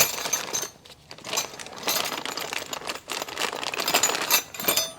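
New brake hardware kit parts for a supercharged Subaru BRZ, spring retainers and pins, clinking and rattling in bursts as they are handled up close, with short pauses between the metallic jingles.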